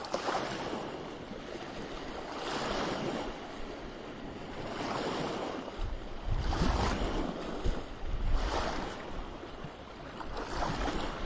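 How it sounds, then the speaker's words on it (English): Ocean waves surge and wash in repeatedly, swelling and receding in a steady rhythm, with wind buffeting the microphone throughout. "I hope you can hear me over all these waves."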